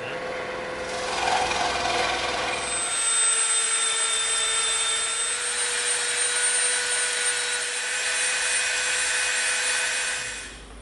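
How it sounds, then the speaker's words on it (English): A scroll saw buzzes steadily while cutting through EVA foam, a continuous rasping whir close up, running the whole time without speech. "we're gonna cut this out, all right, on the scroll saw"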